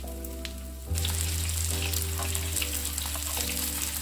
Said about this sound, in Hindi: ये देखिए हमें इसे मीडियम से लो फ्लेम पे पकाना है एक साइड से, फिर हम इसे पलटेंगे।